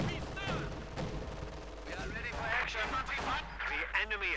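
An artillery bombardment in the Company of Heroes 2 strategy game, with distant booms and scattered gunfire rumbling under a commentator's speech.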